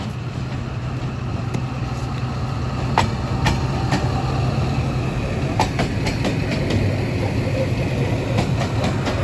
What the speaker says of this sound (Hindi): तेज़गाम एक्सप्रेस का रेक प्लेस किया होने जा रहा है मेन प्लेटफॉर्म पर रावलपिंडी के